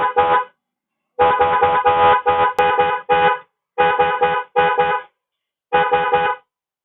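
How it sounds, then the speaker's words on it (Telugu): Motorbike horn fitted with a newly installed mini relay, sounding in a series of loud, close, repeated honks, short and long blasts with brief pauses between them. "ఒకసారి బండి అయితే మీకు ఫిట్ చేసి అయితే హార్న్ కొట్టి చూపిస్తాను"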